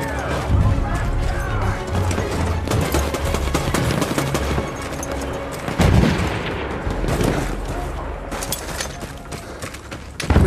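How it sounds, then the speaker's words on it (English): Artillery barrage in the Battlefield 1 video game, a dense ongoing roar of explosions and gunfire with repeated heavy booms and crashes, loud throughout, with voices talking over the battle. "The enemies are being halted by our artillery barrage."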